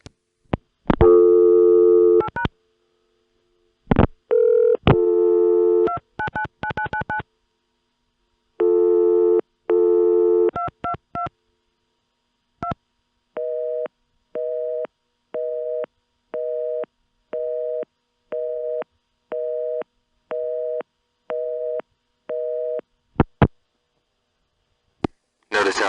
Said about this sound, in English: In the old network, you would get a busy signal from the distant end.